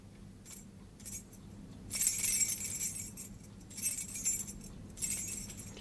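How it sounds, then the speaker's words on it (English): A bunch of keys jangling close by in a few bursts of bright metallic chinking with quiet pauses between shakes. "What sort of noise do you think keys would make?"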